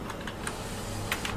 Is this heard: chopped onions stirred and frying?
no